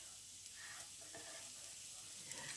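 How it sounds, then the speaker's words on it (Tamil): Mustard seeds, fennel and chopped onion sizzle in hot oil in a pan, a steady, soft frying hiss with faint crackles throughout, close by and with no voices. "2 டீஸ்பூன் எண்ணெய் சேர்த்து கடுகு, பெருஞ்சீரகம், ஒரு கைப்பிடி அளவு நறுக்கின வெங்காயம் சேர்த்து வதக்கி கொள்ளவும்"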